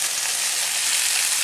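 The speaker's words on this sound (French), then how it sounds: "Et puis là pour les carottes, je vais ajouter maintenant des tomates." Carrots and onions fry in a pan as tomatoes are added, giving a steady, close, even sizzle with no talking.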